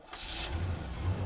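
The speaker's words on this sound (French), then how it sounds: "Je démarre sur un Pontiac de mafiosi." A 1953 Pontiac's engine turns over and catches in a short, fairly quiet start, settling into a low, rough rumble.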